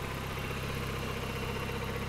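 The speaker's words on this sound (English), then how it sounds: "So you can hear the engine now is not really making that sound." A 1989 Nissan Silvia S13's CA18 engine idles, producing a steady low, evenly pulsing hum with a faint mechanical rattle and no speech.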